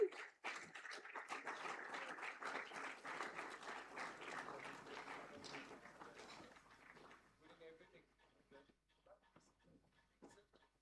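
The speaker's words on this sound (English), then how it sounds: "Can we please have a huge round of applause, ladies and gentlemen?" An award ceremony audience breaks into applause, loud dense clapping from the start that thins out after about seven seconds into scattered claps, with a voice speaking faintly under the tail.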